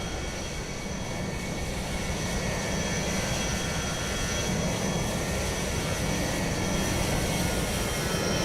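A Ryanair airliner departs Dublin Airport in Microsoft Flight Simulator 2020, its jet engines giving a steady loud roar and broadband rumble that holds nearly constant throughout, with no voices.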